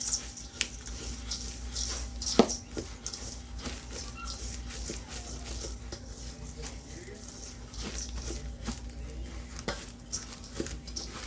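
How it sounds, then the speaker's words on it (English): A spoon stirs a granola mixture in a bowl, with light repeated scraping and occasional clinks, fairly faint and close, under a person talking. "now you have to mix it evenly, so it's like, it's all covering"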